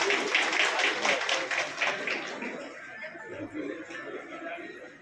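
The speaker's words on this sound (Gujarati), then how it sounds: "આપણે એમને તાળીઓના ગડગડાટથી ઉઠાવી" An audience at a ceremony applauds to honor its president, a burst of scattered clapping and murmuring crowd chatter that is strongest at first and then thins into quieter voices.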